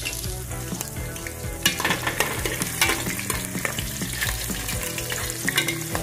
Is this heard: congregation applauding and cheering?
no